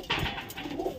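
A pigeon gives a single soft, throaty coo, close by and fairly quiet.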